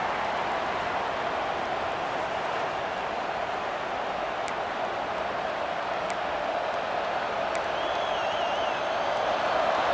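Stadium crowd in a college football video game, Senior Day matchup between NC State and North Carolina, roaring as a steady, dense wash of cheering noise that holds throughout with a few faint sharp clicks.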